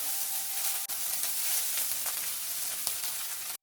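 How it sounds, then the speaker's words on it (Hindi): Indo-Chinese veg fried rice sizzles in a hot pan after a splash of vinegar, a steady close hiss of frying with a couple of brief stirring knocks. "अभी हम इसमें डालेंगे 1 टीस्पून विनेगर और 1 मिनट तक इसको फ्राई करके हम सर्व करेंगे"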